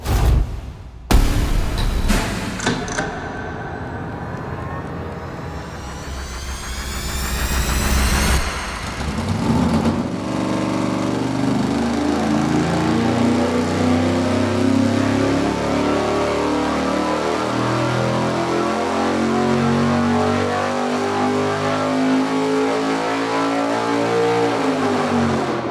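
A small-block Chevy V8 with a dual-plane intake on an engine dyno cranks over and fires up, then settles into a loud, steady, rumbling run that holds for the rest of the stretch, close and unbroken by talk.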